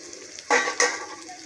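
Onions frying in a pan for a prawn and gongura curry, quiet at first, then a sudden burst of sizzling and a stirring scrape that settle into a softer hiss.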